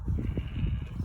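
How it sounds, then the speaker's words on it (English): Sheep bleat repeatedly from a hillside beside a kitchen garden in January, a steady chorus of overlapping low calls carried outdoors at moderate distance, with no talking. "The sheep on that, up on that hill, they sound like in some sort of horror movie."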